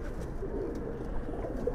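Caged Giribaz pigeons on a Pallah-line pigeon farm coo steadily, a soft continuous murmur of low throaty calls from many birds close by.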